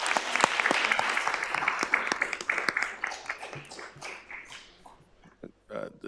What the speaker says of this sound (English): Let's give Cece a big round of applause in her retirement.